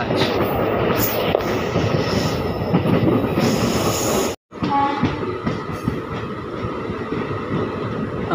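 A Malda Town–Katihar daily passenger train runs on rails, close and loud, with continuous rumbling, rattling wheels and occasional squeals, briefly dropping out for a moment before the rolling noise resumes.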